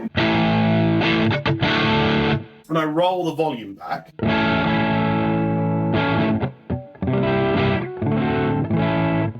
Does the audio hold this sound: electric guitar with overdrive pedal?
yes